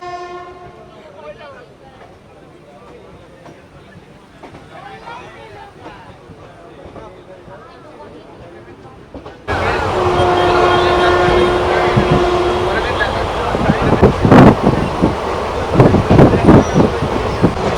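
A passenger train pulls out of Kishanganj station, its quiet rumble swelling abruptly into loud, close running noise with horn tones and rattling carriages.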